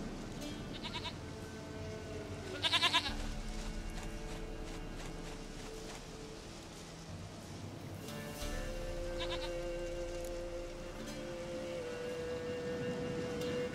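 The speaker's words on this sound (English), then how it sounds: "Goat of mine! Dearest, sweetest goat!" Goats bleat in short repeated calls within The Witcher 3, moderately close, over a steady ambient game soundscape with low background music and no talking.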